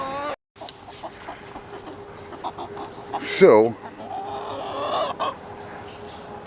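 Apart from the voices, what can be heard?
rooster clucking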